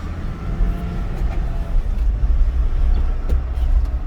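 A car on an E85 tune pulls hard in second gear, a loud, rumbling engine note rising steadily, heard up close for several seconds without any talk.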